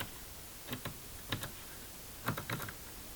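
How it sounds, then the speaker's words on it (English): Push buttons for the ADIRS on a WingFlex A320 overhead panel being pressed in and out, a few soft plastic clicks in small pairs, quiet and close against a faint hiss. "Then we have the different ADIRS buttons, which you also can push in and out."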